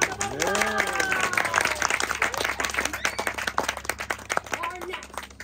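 Lively applause and clapping from a crowd cheering competitors at a school geology quiz contest, dense and continuous, with excited voices and whoops rising over it early on before the clapping thins toward the end.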